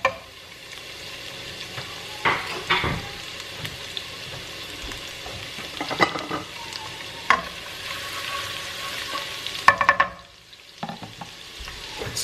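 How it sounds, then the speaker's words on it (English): Minced garlic sizzling in olive oil in a pan alongside meatballs: a steady crackling fry with intermittent metallic clinks and stirring scrapes, then a brief quiet moment before the sizzle resumes. "I'm going to add the rest of the minced garlic and let that simmer."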